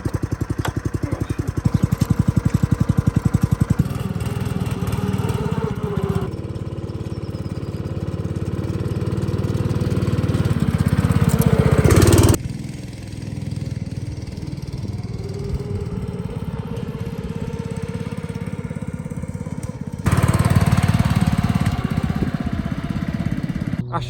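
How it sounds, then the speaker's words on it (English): A small engine on a line-marking trike drones steadily while painting football pitch lines, a loud mid-pitched hum that rises and falls with throttle changes and an abrupt drop midway before picking back up. No one speaks. "just get the trike out and get some lines on the ground"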